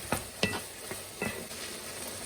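Minced meat being dry-fried in a pan for a Vientiane-style salad, with a few sharp scraping strokes of a utensil over a soft, steady sizzle, close and fairly quiet, no voices.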